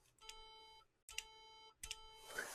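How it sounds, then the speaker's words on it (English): A LEGO Education force sensor sets off three short electronic beeps when pressed, each a clear tonal bleep separated by brief silences, faint overall. "when I hit the force sensor, it makes a beeping sound."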